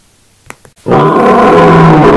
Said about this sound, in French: Il s'agissait du lion.